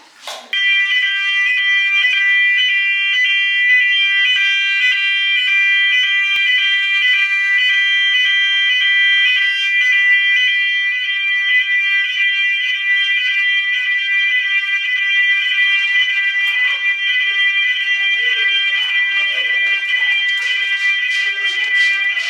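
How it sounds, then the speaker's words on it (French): A school fire alarm rings during a fire drill at a Montessori kindergarten, a loud, unbroken electronic tone that starts abruptly and holds steady for over twenty seconds with faint activity in the background. "ce matin, nous démarrons le vlog avec un exercice incendie"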